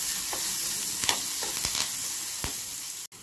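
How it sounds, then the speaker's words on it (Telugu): Curry leaves frying and being stirred in an oiled pan while making gongura chutney, a steady close sizzle with a few scraping stir strokes, ending in a brief pause. "కరివేపాకు కూడా వేసి కలుపుకోవాలండి."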